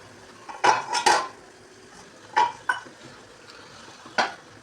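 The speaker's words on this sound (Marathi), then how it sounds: "तर त्याच्यावरती झाकण ठेवून देऊया" A lid is set onto a cooking pan of egg masala, giving a few sharp metallic clinks and clatters, close and fairly loud, separated by short pauses.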